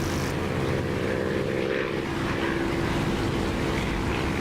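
Constant loud drone of a propeller aircraft engine in the DCS flight simulator, a dense steady roar with a subtle pitch shift partway through.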